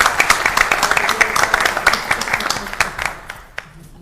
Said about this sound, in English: Can I have a round of applause for